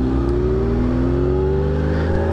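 A 2009 Kawasaki ZX-6R motorcycle engine revving hard and close, a steady high-pitched wail that climbs gradually in pitch as the revs build, with no talking.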